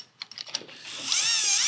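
Clamps being tightened on XERO Pure MAX membranes during replacement: a few quick ratcheting clicks, then a steady whirring drive that runs on close and fairly loud until the end.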